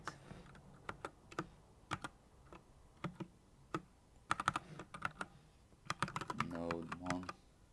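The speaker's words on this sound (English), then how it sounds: "So I'm going to type start" Keys on a computer keyboard struck in irregular bursts of crisp clicks, close and moderately loud, with short pauses between runs and a brief rattling flurry near the end.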